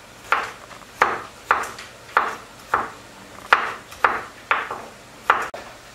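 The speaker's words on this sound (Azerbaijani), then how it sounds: "Bir ədəd qırmızı şirin biber doğrayıram uzun-uzun." A knife chopping a red sweet pepper lengthwise on a board, about ten crisp, evenly spaced cuts with a short ringing tap on each stroke, close and clear with no talk.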